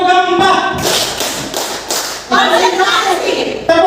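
Classroom of students doing a clapping game, rhythmic bursts of hand claps and thumps alternating with chanted voices, fairly loud and close.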